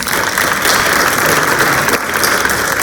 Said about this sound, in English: Clap it up for Miss Marks.